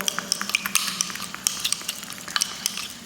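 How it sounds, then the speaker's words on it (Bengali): A spoon stirs a teaspoon of lemon juice into a tulsi leaf face pack paste, giving quick, close scraping clinks and taps against the bowl, with no voices. "এবার সুন্দরভাবে মিশিয়ে নেব।"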